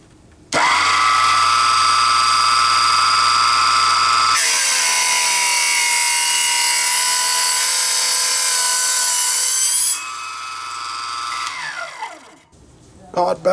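A Proxxon KGS 80 mini mitre chop saw whines loudly as it spins up, bites into a clamped workpiece with a steady, harsh cutting tone for several seconds, then winds down with a falling whir.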